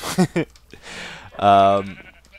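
A Minecraft sheep at a sheep farm bleats once, a loud wavering bleat right after someone speaks briefly.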